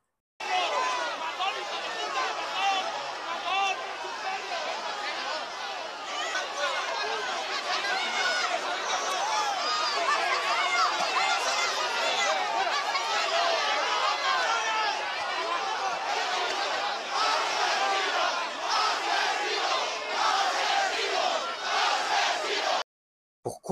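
A hostile crowd in Valencia shouts and jeers at Sánchez, a dense, continuous roar of many voices that stays loud for the whole stretch before cutting off abruptly near the end.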